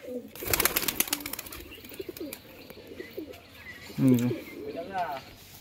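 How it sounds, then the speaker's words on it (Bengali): A pair of golden pigeons are let loose, with a burst of flapping wings and clattering at the start, then scattered soft coos and a louder low coo near the end, against faint background noise. "এই দুটো আছে গোল্ডেন পায়রা দুটো দেখুন"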